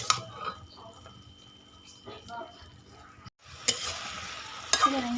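Mixed vegetables tossed with turmeric powder in a pan, giving light sizzling and soft wet stirring scrapes, close but quiet, with a brief pause and a couple of sharper knocks near the end.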